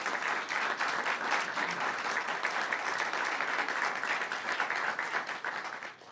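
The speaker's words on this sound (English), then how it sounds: "So please let them know by your applause that we're grateful for their presence and their support." Steady, dense applause from an audience at a press conference for the World Meeting of Families carries on evenly for about six seconds, then begins to fade at the end.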